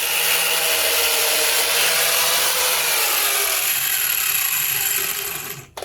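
A car part being trimmed with a power tool, a loud continuous rasping cut that runs steadily for about five seconds, then drops off and stops with a couple of brief clatters at the end.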